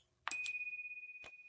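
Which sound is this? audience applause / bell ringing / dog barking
bell ringing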